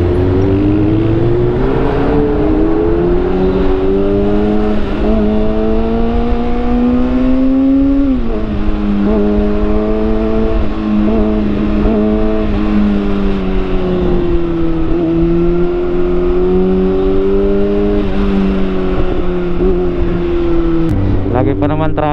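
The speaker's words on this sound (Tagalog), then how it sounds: "Bali nakamotor naman tayo." Motorcycle engine droning steadily through city traffic in Manila, pitch rising and falling with gear changes and throttle for over twenty seconds, loud and close, with a brief blip of revving near the end.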